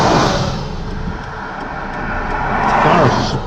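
Trucks rumble past a parked car on a road, a steady close roar of passing traffic that swells again toward the end.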